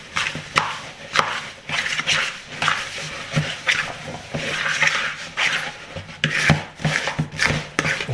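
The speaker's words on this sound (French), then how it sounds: "Je viens racler les bords." A spoon scrapes flour dough off the edges of a bowl for wheat tortillas, with repeated close, gritty scraping strokes and soft knocks against the bowl.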